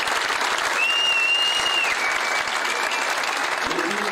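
Loud, continuous applause from an audience at a memorial evening, dense and even, with a thin whistle-like tone briefly rising above it early on.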